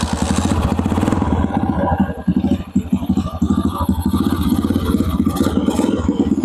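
A kick-started motorcycle converted to battery-operated ignition idles close by in a fast, steady, rattling putter that continues without a break, with light mechanical clatter over the engine beat.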